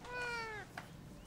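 A cat gives one clear, drawn-out meow, nearby and alone, followed by a short faint sound against a quiet room background.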